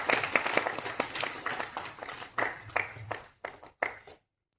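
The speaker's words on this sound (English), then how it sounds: "So huge round of applause from Town 9 and EnglishPress Srivastava." An audience at an educational workshop claps, a lively round of applause that breaks into uneven bursts and stray claps before stopping abruptly into silence.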